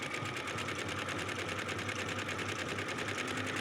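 A sewing machine stitches along a seam of a color block sheath dress, a fast, even mechanical whir with a rapid repeating needle rhythm, close and continuous.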